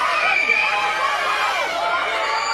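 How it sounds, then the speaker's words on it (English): A wrestling arena crowd chants a wrestler's name, a loud, continuous wash of many voices with rising and falling shouts throughout. "Listen to this crowd chanting Will."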